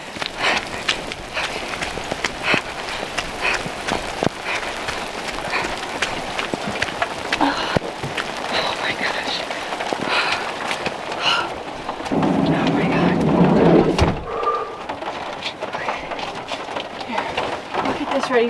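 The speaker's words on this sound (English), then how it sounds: "She doesn't like the rain." Steady rain patters throughout with a louder wash of downpour partway through, while people talk and call out over it.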